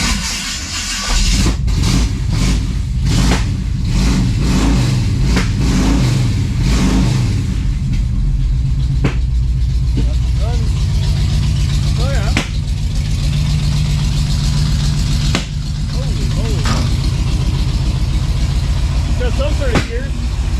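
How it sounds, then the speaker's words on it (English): A tunnel ram gasser engine at its first start revs loudly and unevenly, cracking with several sharp backfires up close, while people talk over it. "That was a cool backfire."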